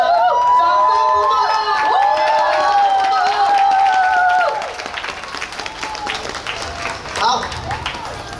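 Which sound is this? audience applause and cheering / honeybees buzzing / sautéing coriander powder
audience applause and cheering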